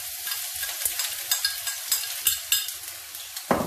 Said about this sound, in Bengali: তেল দিয়ে দিচ্ছে এখন